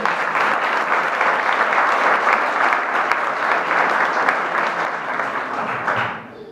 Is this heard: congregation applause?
yes